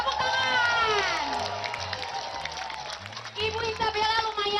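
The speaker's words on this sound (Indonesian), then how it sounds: "Tepuk tangan." A studio audience at a live Indonesian TV variety show claps and cheers loudly, the crowd noise swelling near the start and again at the end while excited voices shout over it.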